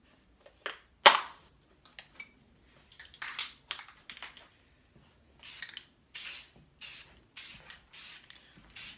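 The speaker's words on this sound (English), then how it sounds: "these are just your basic spray paints" Short bursts of spray paint from basic aerosol cans, hissing on and off in an irregular then steady rhythm, with faint clicks between sprays.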